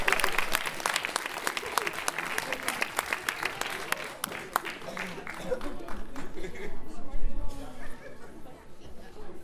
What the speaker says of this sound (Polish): I wielkie brawa, proszę państwa.